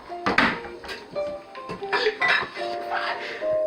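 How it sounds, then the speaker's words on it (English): Bowls and dishes clink and knock during kitchen prep of mini corndogs and honey mustard, a run of close, scattered ceramic taps and scrapes mixed in with a person talking. "We're gonna take a bigger bowl."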